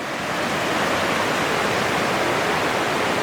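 Mae Ya waterfall in Chiang Mai roars as a dense, steady broadband rush of falling water, loud and unbroken throughout with no voices.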